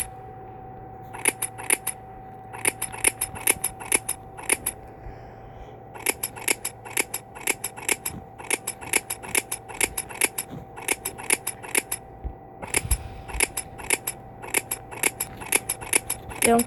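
Scissors snip in quick bursts in the Toca Boca game while hair is cut, each crisp metallic clip repeating in rapid clusters over a steady background hum with short pauses between runs.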